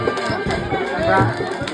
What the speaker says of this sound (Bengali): প্রচন্ড ভিড়